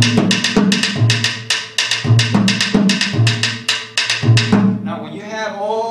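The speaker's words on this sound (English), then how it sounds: "they prefer to get that wooden sound on the casca, but you can do it on the timbales too" Sharp, dry wooden clicks of a rumba pattern played on the casca, a wooden cajita, repeat in a steady syncopated rhythm with low resonant thuds underneath, close and loud, ending with a brief ringing tone.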